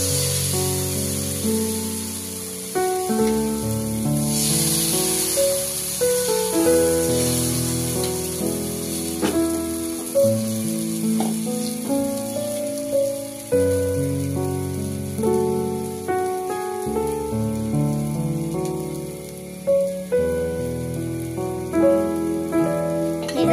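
Jowar ghavan batter sizzles on a hot tawa, a steady hiss under prominent background music that carries on throughout.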